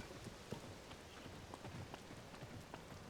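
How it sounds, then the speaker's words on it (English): Rain in the video game Zelda: Tears of the Kingdom, a steady, faint, even patter of drops with occasional brighter splashes, alone without talk. "I really don't want to go down there while it's raining"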